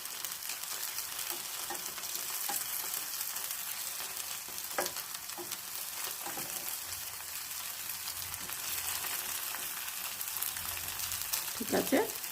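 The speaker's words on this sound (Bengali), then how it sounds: "এইভাবে আমি সব ধোকাগুলোকে ভেজে নেব।" Dhoka lentil cakes frying in hot oil for dhokar dalna, a steady broadband sizzle running throughout with a few brief clinks of a utensil near the end.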